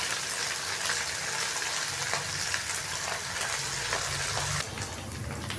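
Ginger garlic paste frying briefly in a pan for an aloo moongre methi sabzi, a continuous close sizzle with light stirring clicks that drops slightly quieter near the end.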